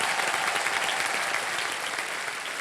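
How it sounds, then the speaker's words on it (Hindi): A studio audience at a televised quiz show claps loudly and steadily, a dense uninterrupted wash of hand claps filling the room from start to finish. "ताली बज जाए जोरदार कनक जी के लिए।"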